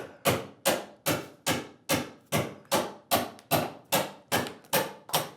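Chisel shaving the bulk of wood from a curved workpiece by hand, eleven sharp, evenly spaced chopping strikes in a steady rhythm, close and fairly loud, each with a quick crisp attack and short decay.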